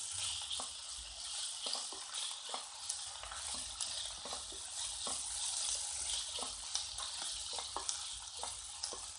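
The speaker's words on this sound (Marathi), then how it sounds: "आता हे मिश्रण आपण चांगलं परतून घेऊया" Dried shrimp (jawla) chutney mixture with coriander powder, salt and fresh coriander sautés in a pan, giving a steady close sizzle broken by repeated scraping stirs throughout.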